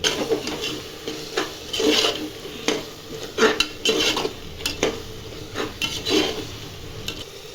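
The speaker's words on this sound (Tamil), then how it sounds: "பிரியாணி மசாலா சேர்த்தாச்சு ஒரு ஸ்பூன் நல்லா கலந்துக்கலாம்" A spoon stirs a mushroom biryani masala mixture with yogurt in a pot, making a rhythmic series of scraping, clattering strokes against the metal over a light sizzle.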